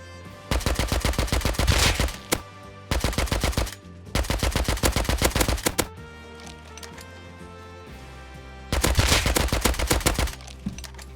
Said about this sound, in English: Sounds like there's quite the fight going on down the hill.